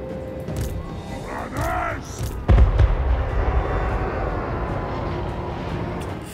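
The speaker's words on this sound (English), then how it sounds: "Just draw them into the artillery fire." Artillery fire in Total War: Warhammer 3 battle: a sharp, loud booming blast erupts mid-clip and rolls into sustained rumbling bombardment, preceded by brief voice sounds and background battle noise.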